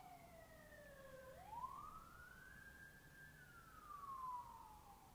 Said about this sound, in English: and here come the sirens.